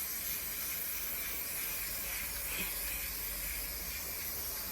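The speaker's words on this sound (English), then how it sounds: "Just going to spray it very lightly" A steady, soft hiss of spray paint spraying continuously from a can, even and unbroken throughout, with no voices.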